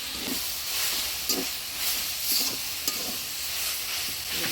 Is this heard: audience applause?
no